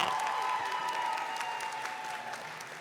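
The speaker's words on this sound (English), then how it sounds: "Yes, you can cheer a little bit more." Audience applause at a university convocation, a steady wash of clapping that tapers slightly over a few seconds, heard from within a large hall.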